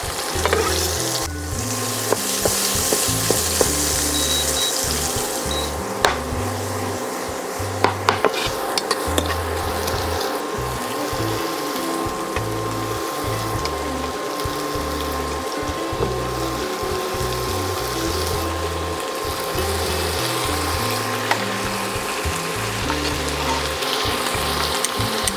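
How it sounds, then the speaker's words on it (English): Vegetables for a skirt steak stir fry hit a hot pan and sizzle loudly and steadily throughout, with occasional clatters from stirring and no talking. "Let's add the vegetables."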